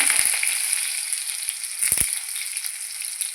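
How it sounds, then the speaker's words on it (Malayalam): Onion sizzles steadily in hot coconut oil with popped mustard seeds, a loud, close, continuous frying hiss with two brief stirring knocks and no talking. "കടുകൊക്കെ പൊട്ടി വന്ന് അതിലേക്ക് ഉള്ളി ഇട്ട് കൊടുക്കുക."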